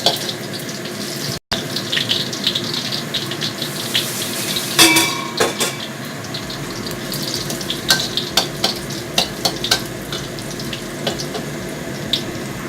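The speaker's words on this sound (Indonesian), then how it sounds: "Jika bawang putihnya sudah wangi, kita masukkan ayamnya." Chicken added to fragrant fried garlic in a pan sizzles steadily, with a burst of spattering around the middle and sharp clinks of a utensil scraping and stirring close by.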